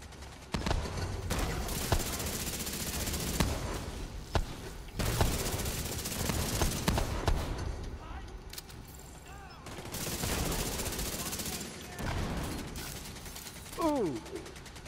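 Rapid bursts of nail gun fire in The Division 2, loud mechanical clattering volleys repeating across the scene with short pauses between, mixed with other game sounds and voices.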